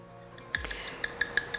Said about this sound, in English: you're going to need a fork to mix it all around